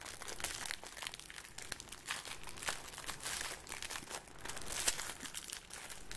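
Plastic wrapper of a Yu-Gi-Oh trading card pack crinkling and tearing open up close, with irregular crisp rustles and sharp crackles, no talking.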